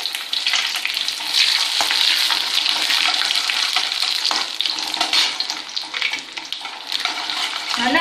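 Mustard seeds, urad dal and chana dal fry in hot oil with a dense, bright crackling sizzle that holds steady throughout, close and fairly loud, with faint stirring scrapes and no voices.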